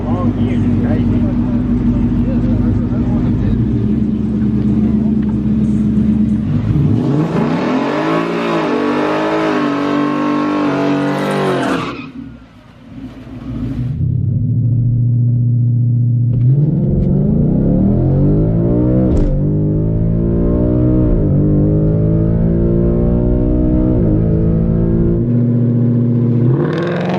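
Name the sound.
street car engine revving on drag test pass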